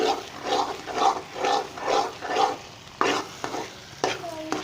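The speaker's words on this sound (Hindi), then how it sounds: "इसको मज़ीद हमको 3-4 मिनट भूनेंगे।" Gram flour halwa with almonds, pistachios and cashews stirred and roasted in a pan, a rhythmic scraping stir repeating about once a second under a soft sizzle, close and fairly loud, ending with a few sharper utensil knocks.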